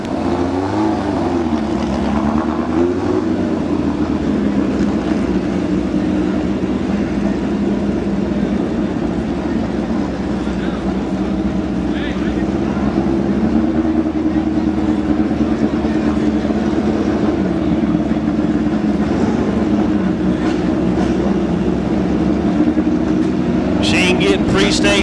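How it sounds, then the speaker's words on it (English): A drag racing machine does a burnout to about 100 feet at a Farmington drag strip, a steady loud engine roar held throughout with an announcer talking over it. "Machine doing a burnout out to about 100 feet."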